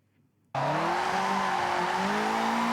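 A Toyota AE86 drifting through the touge in Forza Horizon 6, loud sustained tire squeal with a revving engine that starts abruptly after a brief near-silence and holds steady to the end.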